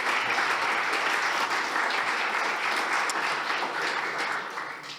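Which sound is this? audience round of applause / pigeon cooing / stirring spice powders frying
audience round of applause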